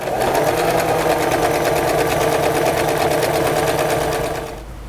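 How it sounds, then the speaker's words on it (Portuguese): A sewing machine runs a single continuous seam along the top edge of quilting fabric panels for an organizer, stitching steadily and loudly at close range before stopping abruptly near the end. "Nós vamos passar uma costura somente aqui na parte de cima."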